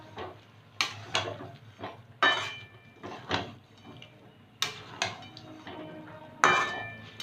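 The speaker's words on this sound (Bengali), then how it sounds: "ঘি গরম মশলা একটু মিশিয়ে নেব" Ghee and garam masala being stirred into a potol curry in a pan: irregular clinks and scrapes of a utensil against the pan, close and moderately loud, over a low background hum.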